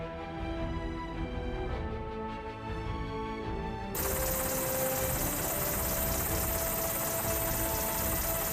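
Seahawk military helicopters approach over the Red Sea, their rotor and engine noise a dense, steady roar that grows louder and brighter partway through, with no voices present.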